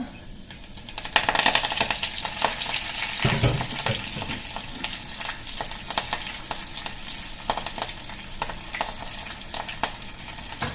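Garlic frying in a pan until golden brown for dal rasam, a steady crackling sizzle with a few clinks of a spoon stirring against the pan, close and moderately loud, with no talking.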